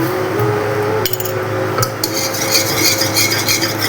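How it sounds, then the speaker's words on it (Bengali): A spoon stirs milk in a pot as powder is added to curdle it into chhena for mango rasmalai, with scraping clinks and metallic taps against the pan, close and steady without talk. "এইভাবে নেড়ে চেড়ে নেবেন।"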